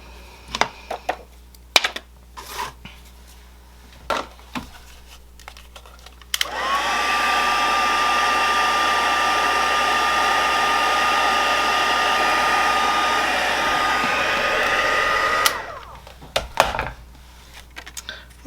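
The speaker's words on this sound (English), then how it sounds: "I'm going to heat emboss this." A heat tool blows hot air over a stamped card being heat embossed, a loud steady whoosh lasting about nine seconds, framed before and after by light clicks and handling noises.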